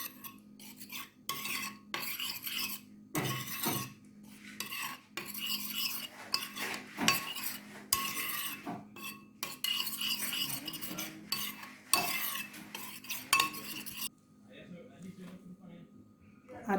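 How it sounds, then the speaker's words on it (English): Jerk chicken marinade ingredients are mixed in a bowl, with repeated scraping and clinking strokes of a utensil in bursts and pauses, while a person talks over the stirring. "we're going to just mix to incorporate everything smooth and nice properly"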